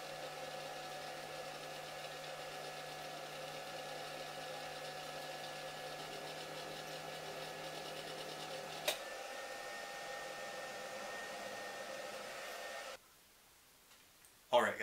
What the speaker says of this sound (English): So now we have a thermal load in our cotton candy machine. So we're heating up the spun sugar with the heat from the element